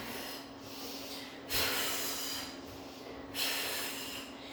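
Two audible breaths during a mat Pilates rocking and rolling exercise, each a soft rush of air rising and fading in a steady rhythm, close and moderately loud with no speech.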